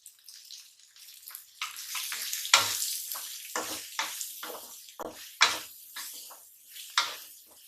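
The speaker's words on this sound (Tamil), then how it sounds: "வெங்காயத்தோடு சேர்த்து நல்லா வணக்கிட்டு அரைக்க போகிறேன்" Onions being sautéed with tomato, chilli and grated coconut in a pan for a dry fish kuzhambu, giving a close, steady sizzle broken by repeated scraping stirs at an uneven rhythm, with no voices.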